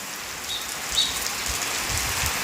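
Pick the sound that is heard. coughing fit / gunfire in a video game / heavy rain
heavy rain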